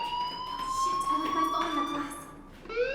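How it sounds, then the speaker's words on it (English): A fire alarm rings steadily in the video game Life is Strange, a shrill electronic tone over room noise that rises in pitch near the end. "do you hear that fire alarm?"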